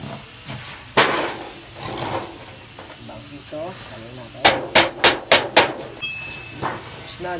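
A quick run of about five sharp hammer blows folding sheet metal for a grill, loud and close, with earlier scattered knocks and faint background noise.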